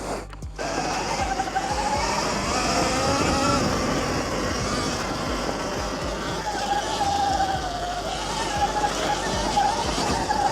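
An Extreme Wheel ES 88V electric dirt bike riding off road gives a steady, fairly loud whir and rushing noise with rough ground rumble throughout.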